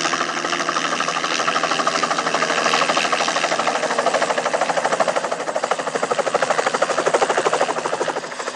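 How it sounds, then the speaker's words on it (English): A helicopter's steady, pulsing rotor chop and engine whine fill the air close and loud as it sets down on a ledge in high desert canyon country, with no voices. "We'll land the helicopter on this ledge near one of the deep draws bisecting this high flat"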